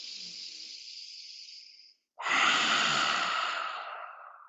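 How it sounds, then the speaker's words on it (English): Yogic lion's breath: a steady, airy inhale filling the low belly, then after a short pause a louder, fuller breathy exhale that carries on for a couple of seconds, close and clear with no talking. "inhale into the low belly"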